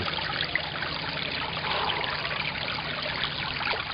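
Cold stream water trickles and burbles around bare feet on a woodland trail, a steady close, continuous wash with no talking.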